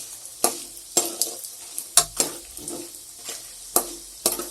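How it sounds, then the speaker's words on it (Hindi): Homemade mangodi, lentil dumplings, fry in a pan over medium heat, with a soft sizzle under repeated sharp scrapes and clinks of a spoon stirring against the metal, close and irregular. "इसको हम लाल फ्राई करेंगे। मीडियम आंच पे इसको भूनिएगा"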